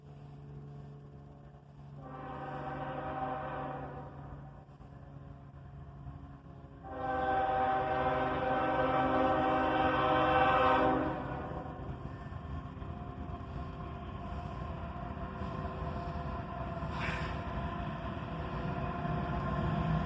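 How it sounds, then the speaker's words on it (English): A single ES44AC locomotive leads a southbound manifest freight train slowing into a siding, sounding two loud horn blasts, a shorter one then a longer one, over steady rumbling wheels and engine, with a faint brief tone near the end. "A single ES-44 ACH leads this southbound manifest train"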